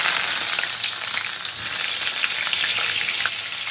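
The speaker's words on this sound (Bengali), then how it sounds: "কড়াইতে তেল দিয়ে দিয়েছি, আগে বেগুনটা ভেজে নেব" Eggplant coated in salt, sugar and turmeric fries in hot oil in a wok, giving a loud, steady hiss of sizzling that holds without pause.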